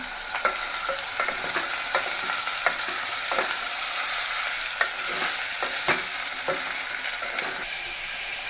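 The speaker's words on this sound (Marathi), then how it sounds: "त्याला छान परतून घेऊया" Chicken seasoned with turmeric and salt sautés in a pan: a steady, bright sizzle runs throughout, broken by frequent scraping stirs, with no voices.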